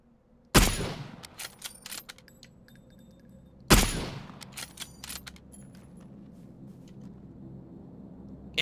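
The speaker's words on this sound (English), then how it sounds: "Gunshots." Two sharp, loud gunshots a few seconds apart, each followed by rattling echoes and clinking debris, in a video game.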